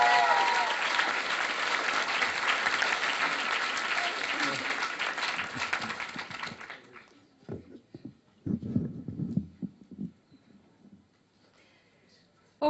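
A graduation audience claps loudly and steadily for several seconds, then the applause tapers off into a quieter room with scattered footsteps and shuffling near the end.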